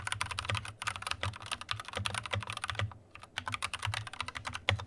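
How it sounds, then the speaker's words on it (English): Close typing on a keyboard with non-lubed Gateron Yellow switches and OEM-profile keycaps, a dense run of hollow clacks and brief pauses, with no talking. "here's a quick sound test of the non-lubed Gateron yellows with these OEM profile keycaps"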